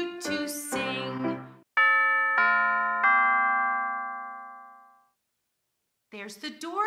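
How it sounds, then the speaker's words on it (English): A two-tone ding-dong doorbell chimes three times in succession, with bright sustained tones that ring out and fade slowly, set between spoken narration at the start and end. "There's the doorbell."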